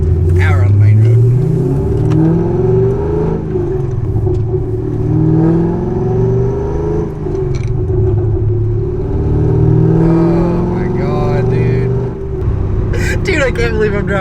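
A stanced car driving on a main road, its engine a low, steady rumble with gear-change swells, heard from inside the cabin under a man's near, continuous talking.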